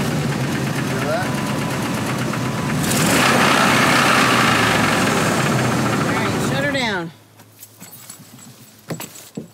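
A vehicle engine runs roughly with knocking, a loud, uneven rumble that swells midway and then cuts off, leaving scattered small clatters; people talk over it.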